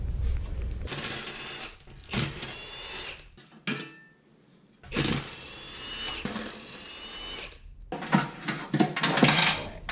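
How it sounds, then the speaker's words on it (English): Bolts come off a Honda CR-V steering rack with bursts of close metallic ratcheting and tool clatter, separated by brief pauses and a near-silent gap, then resuming more busily toward the end. "I'm going to remove these bolts probably, and some here."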